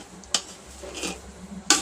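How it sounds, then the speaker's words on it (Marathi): Spoon stirring melting sugar in a pan for sheera, Maharashtrian semolina prasad, with two sharp scrapes against the pan and a soft sizzle between them, close and without talk. "आता इथे साखर थोडीशी वितळली आहे, तर इथे आम्ही आता ढवळून घेतोय."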